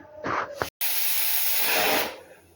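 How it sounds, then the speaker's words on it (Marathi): A kitchen pressure cooker letting off steam: a loud, broad, steady hiss runs for over a second after a couple of short bursts, then tapers off, close by and alone. "चला पटपट कुकरच्या शिट्ट्या होत आहे"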